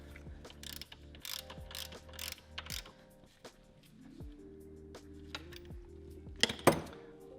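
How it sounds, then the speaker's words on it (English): A 15mm ratcheting wrench snugging a bolt on a Ford GT500's adjustable belt tensioner, a series of quick close clicking ratchet strokes, then quieter metallic ticks and a sharp clank. "I'm going to use a 15mm to snug up this bolt."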